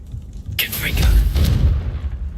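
A Confringo fire spell from Hogwarts Legacy blasts out with a loud, rumbling boom and a bright crackling whoosh that swells and then tails off, heard close.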